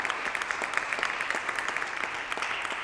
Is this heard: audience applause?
yes